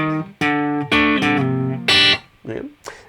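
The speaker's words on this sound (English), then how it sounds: "So I just kind of slide and then depress the bar just to get the notes." An electric guitar plays a short riff, with sliding notes and whammy-bar dips forming quick bending stabs, loud and close with no talking.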